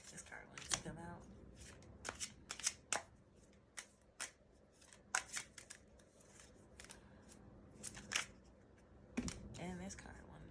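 Tarot cards shuffled and riffled by hand, giving repeated crisp flicks and soft slaps in irregular bursts, close and fairly quiet, with a person speaking now and then.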